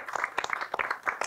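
Applause for singers and musicians on an Indonesian television talk show, a short stretch of dense, continuous clapping with uneven peaks, moderately near and fairly quiet.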